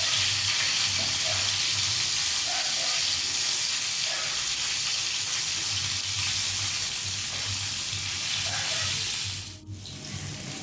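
Sardine pieces fry in oil for a Bengali fish curry, giving a dense, continuous close hiss and sizzle that holds steady throughout, with a brief dip near the end and no one talking.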